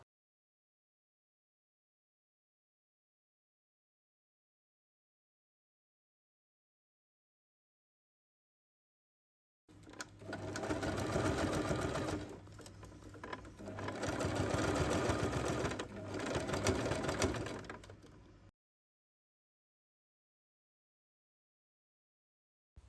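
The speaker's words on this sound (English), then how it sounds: "sew the pinned areas half a centimeter from the edge" A sewing machine stitches the side panels of a small handbag, running in two bursts of steady whirring with a short pause between them and quiet before and after.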